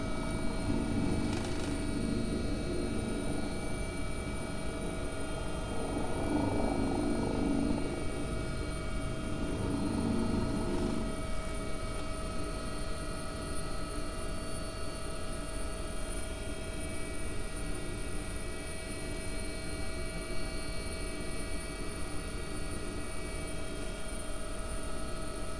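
A simulated AW-139 helicopter in X-Plane 11 at 102% rotor speed gives off a steady, fairly quiet drone of rotor and turbine whine that holds unchanged throughout.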